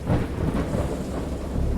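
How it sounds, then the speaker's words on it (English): Heavy thunder rumbles through a stormy scene in the video game Dagon, a deep continuous roll with steady rain hiss underneath, loud and close throughout. "I heard pearls of thunder and other tones which nature utters only in her wildest moods."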